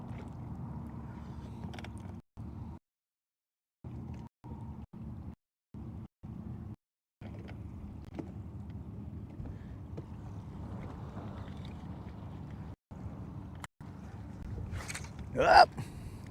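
Wind buffets a fishing boat on Lake Guntersville, producing low, rumbling microphone noise in gusts with brief dropouts. Someone talks over it and a louder gust rises near the end.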